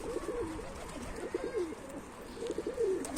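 Pigeons coo in soft, repeated rolling phrases, fairly close, in two clear bursts over steady low outdoor ambience with no talking.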